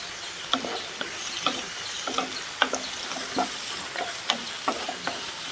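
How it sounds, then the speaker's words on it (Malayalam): Onions, green chillies and salt being sautéed in a pan, a spoon scraping and stirring in repeated strokes over a soft sizzle, close and moderately quiet with no talking. "എല്ലാം കൂടി നന്നായിട്ടൊന്ന് വഴറ്റിയെടുക്കാം."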